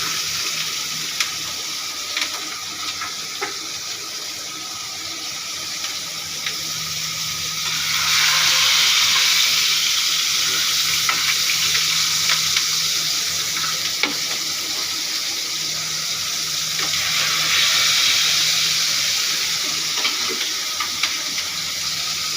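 Ridge gourd with poppy seed frying in a pan gives a steady, moderate sizzle that swells louder midway and again later, with faint scraping stirs and no talk.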